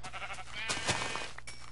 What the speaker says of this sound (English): Hey, Mr. Black Sheep.